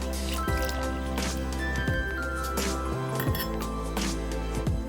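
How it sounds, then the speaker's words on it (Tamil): A cup of chilled boiled milk poured into a bowl or jar, a soft liquid pour with splashes and clinks over faint background music. "நல்லா காய்ச்சி ஆற வச்சு ஃப்ரிட்ஜில் சில்லுன்னு எடுத்துக்கிட்ட பால் 1 கப் சேர்த்துக்கிறேன்."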